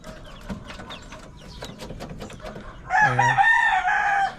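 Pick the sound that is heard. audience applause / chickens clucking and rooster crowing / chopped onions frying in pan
chickens clucking and rooster crowing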